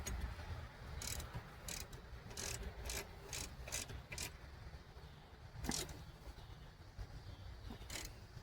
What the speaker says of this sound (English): I'm using a 11/16 socket and ratchet.